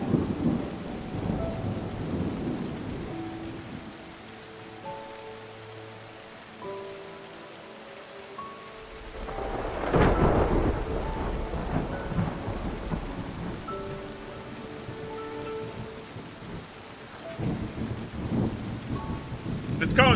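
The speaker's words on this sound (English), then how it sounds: "We just made it rain." Rain and a thunderstorm in the video game Terra Nil: steady rainfall hisses throughout, with a loud rolling thunder crash near the middle and another rumble toward the end, while soft musical tones chime in the background.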